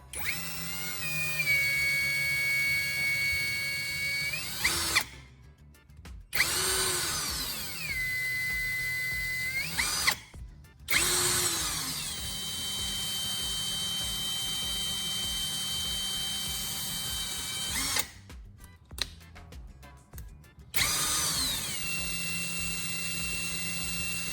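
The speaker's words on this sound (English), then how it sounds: "use a plastic zip tie to gently hold the trigger so the drill runs continuously" An electric drill held on by a zip tie runs steadily at moderate speed with a high whine for long stretches, with brief interruptions and shifts in pitch, while sharpening a knife.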